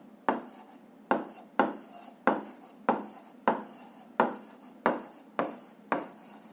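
Chalk or marker strokes on a classroom board during a physics lesson, a steady series of about ten short scraping taps roughly every half second, close and fairly clear with no talking over them.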